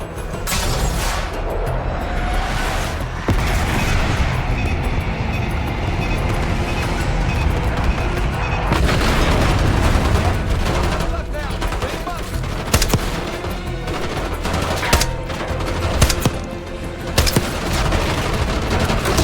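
Bomb explosions and rapid gunfire in the Call of Duty: Black Ops 6 campaign, with heavy booming blasts and sustained bursts of automatic fire, plus a radio voice talking.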